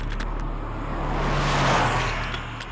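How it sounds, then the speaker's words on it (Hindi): A car passes by on a road, its engine and tyre noise swelling to a peak mid-way then easing off, moderately close and alone with no talk. "ये प्रियंका चोपड़ा की गाड़ी है।"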